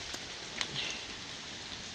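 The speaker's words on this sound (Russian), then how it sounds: "Вот какой большой град." Hail and heavy rain falling in a downpour in Tomsk, a steady dense hiss of drops with a few sharper ticks of hailstones striking nearby.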